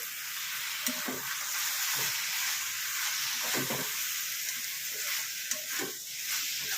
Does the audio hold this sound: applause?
no